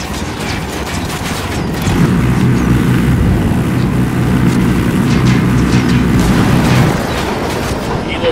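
A helicopter in Ghost Recon Wildlands makes a heavy, steady rotor rumble that swells louder and more pulsing for several seconds mid-clip, then eases back to a lower drone.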